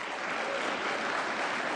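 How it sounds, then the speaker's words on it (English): Sustained applause from the audience at a Commonwealth attorneys and solicitors general conference, a dense, steady clapping that fills the hall at an even level for the whole stretch, with no voices on top. "give me a round of applause so that I can speak properly"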